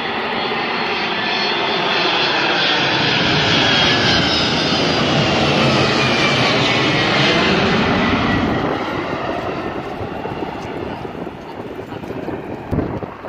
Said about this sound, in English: I'm just gonna see how close the plane is to us.